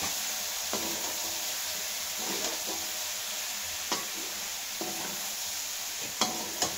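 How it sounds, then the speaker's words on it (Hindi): Vegetables and rice for a mixed vegetable biryani stir-fried in a pan, a continuous sizzle with occasional spatula scrapes and knocks, close up with no talking. "और दो से तीन मिनट इसको भी अच्छे से भून लेंगे"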